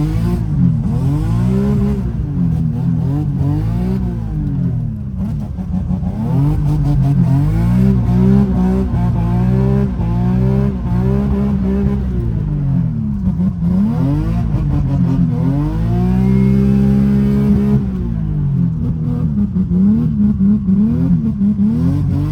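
A race car laps the wet track at Orlando Speed World, its loud engine heard from close range as it revs, rises and falls steadily through gear changes and corners without a break.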